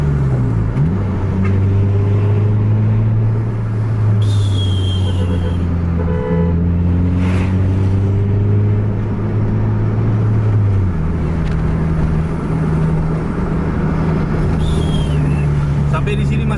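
An intercity bus pushed at full throttle on a rain-slicked road, its engine droning loud and steady with rising and falling gear pitch, a horn toot or two and talk over the top.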